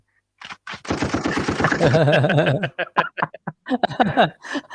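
Rapid bursts of machine-gun fire rattle loudly, followed by shorter staccato volleys in quick succession.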